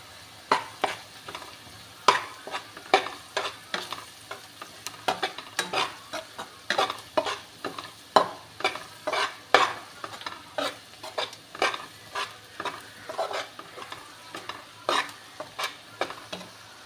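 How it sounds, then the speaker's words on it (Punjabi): Onion and gram flour roast in a pan while a spoon stirs in a steady rhythm, each stroke a distinct close scrape over a soft sizzle, repeating for the whole stretch with no voices. "ਨਾਲ ਹੀ ਪਿਆਜ਼ ਭੁੰਨ ਲੈਣਾ ਨਾਲ ਹੀ ਬੇਸਣ ਭੁੰਨ ਲੈਣਾ"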